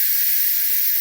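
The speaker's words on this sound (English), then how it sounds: "we're going to release the steam" An Instant Pot vents steam in a loud, continuous high hiss that holds steady from start to finish, with nothing else heard.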